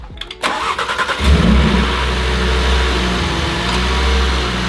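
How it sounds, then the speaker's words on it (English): An Audi RS3 engine with a 4-inch carbon intake cranks cold with a few quick turns, fires up with a surge, then drops into a steady, slightly uneven idle nearby. "See what a cold start sounds like."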